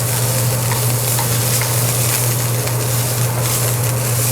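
Diced onion and garlic sizzling in a pan of vegetable stir fry, a dense, even, close hiss with a low steady hum beneath, continuous and unbroken, with no talking.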